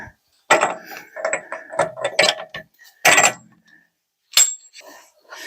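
Ratchet spinning a spindle nut off the rear hub of a BMW X5 E70, with bursts of clicking and metallic clinks separated by short pauses, close and fairly loud.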